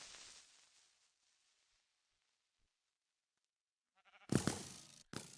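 A sheep bleats loudly in the Minecraft video game, one or two close, abrupt bleats that break in after a long stretch of near silence.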